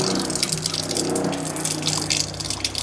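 Water gushes steadily from a tap or pump for washing feet at night, a continuous close splashing flow with a low hum beneath and no talking.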